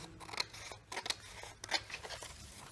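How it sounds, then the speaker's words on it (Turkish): Scissors snip through paper along the outer lines of a woodcarving pattern, a series of sharp, close cutting strokes in uneven bursts with no talking. "Düzgün bir makas yardımıyla dıştaki çizgilerden bunları"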